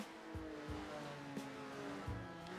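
A Ferrari GTO race car in a racing video game at the Pergusa track, its engine howling at full throttle in a steady drone, with brief gear-shift dips and some tire noise.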